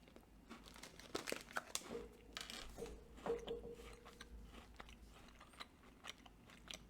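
Crinkly wrapper rustling and crunchy bites and chewing of a Twix Salted Caramel chocolate bar, close and quiet, in a few irregular bursts with no talking.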